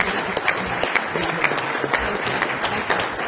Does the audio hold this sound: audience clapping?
yes